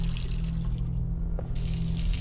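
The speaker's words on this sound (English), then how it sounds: "That water keeps doing the same thing over and over again." Water running from a bathroom tap in the video game Observer, a steady close splashing stream with a low constant hum underneath and a brief lull midway before the flow surges again.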